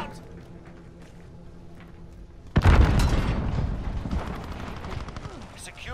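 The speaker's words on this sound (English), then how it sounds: "Grenade out!" A grenade blows up partway through a round in the Modern Warfare beta shooter game: a sudden heavy boom with a rumbling tail that fades over several seconds, above quieter game background noise.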